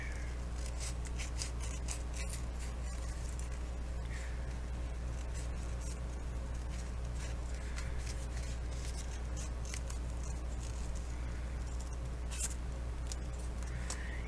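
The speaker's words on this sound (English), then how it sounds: "I'm going to go ahead and cut this part out." Scissors snip through paper in a steady series of short crisp cuts over about fourteen seconds, close and quiet above a low hum, with no speech.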